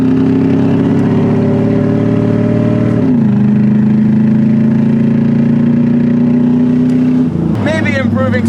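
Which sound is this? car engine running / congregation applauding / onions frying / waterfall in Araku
car engine running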